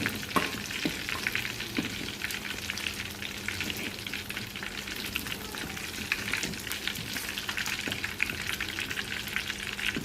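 Meat sizzles and spatters steadily as it fries in a hot pan, a continuous crackling fry with occasional sharper pops and no talking.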